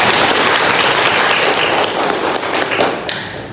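A class of students clapping for a classmate in an Arabic lesson, loud close-up applause with distinct sharp hand claps that thin out and fade toward the end.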